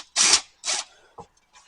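Power drill sinking screws just deep enough to grip, without fully countersinking them: two short, loud whirring bursts close by, followed by a faint click and a soft knock.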